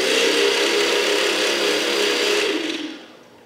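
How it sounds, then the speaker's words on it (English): The motors of an XProHeli XP2 quadcopter with APC 10x4.7 props spin up during a rotation check, a close, loud whirring buzz held steadily for about three seconds before winding down and cutting off. "let's just quickly check the motor rotations"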